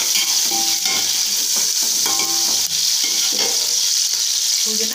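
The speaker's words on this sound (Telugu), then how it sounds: "బిర్యానీ తిప్పడానికి ఈ స్పూనే యూజ్ చేయాలి" A spoon stirs chicken biryani in a hot pot: a steady hiss of sizzling with repeated clinks and scrapes of metal, close and fairly loud, no talking.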